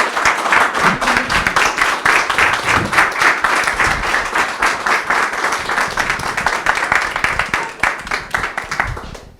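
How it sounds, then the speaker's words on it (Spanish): Sustained applause from a lecture audience after a legal talk, dense steady clapping from many hands filling the room and tapering off near the end. "Fuerte aplauso."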